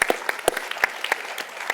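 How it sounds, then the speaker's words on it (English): Brief audience applause at a business travel conference debate, a handful of loud, distinct claps close by in an uneven rhythm rather than a full crowd. "Let's give him a round of applause"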